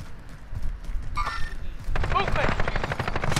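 Automatic gunfire and bursts of shots in Call of Duty Modern Warfare, loud and dense with rapid repeated cracks in the second half, preceded by scattered shots and a brief mechanical whine.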